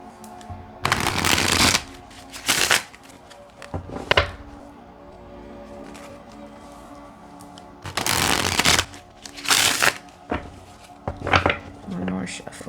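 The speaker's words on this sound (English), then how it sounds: "One more shuffle." Tarot cards being shuffled by hand in repeated loud riffling bursts with pauses between them, plus a few softer taps and shuffles, close to the microphone.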